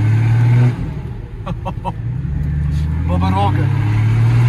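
A Mercedes diesel engine fitted with a new, wider stainless steel exhaust runs close by. It gives a deep rumbling idle with a brief throttle blip, and someone speaks over it.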